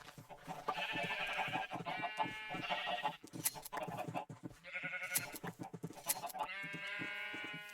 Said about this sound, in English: The sheep bawling in unison is just entertaining every time.